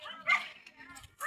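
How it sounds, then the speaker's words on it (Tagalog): A dog barks a few short yips in an outdoor countryside setting, fairly faint and brief, mixed with a nearby voice speaking. "may aso"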